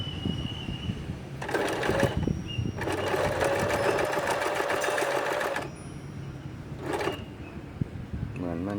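An Elna 2006 sewing machine stitches in bursts, a short run, a longer steady whirring run, then a brief final burst, heard close up with some light handling sounds between.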